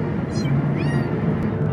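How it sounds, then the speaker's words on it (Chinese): A cat meows insistently during a car ride, with short repeated cries over a low, constant road rumble. "养猫人最常遇到的就是搭车时他们会一直疯狂喵喵叫"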